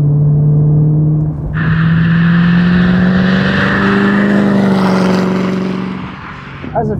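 2005 Ford GT with over 800 hp and a Heffner supercharger, engine idling loud and close then revving hard with a rising, rasping roar that holds for several seconds before dropping off.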